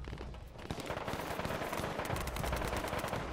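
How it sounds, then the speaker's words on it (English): Gunfire in the battle royale game H1Z1, a continuous crackle of overlapping shots at moderate loudness throughout, fairly dense and uneven rather than cleanly spaced. "You keep shooting me."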